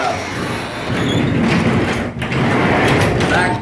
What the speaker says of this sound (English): back door works like normal, so we can pull that down